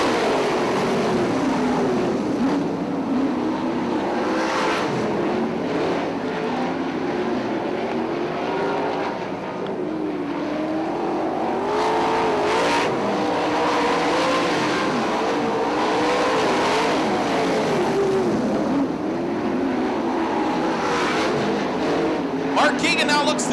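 410 sprint cars racing at Fremont Speedway, a continuous loud engine roar that swells and fades as cars pass, with a race announcer talking over it throughout.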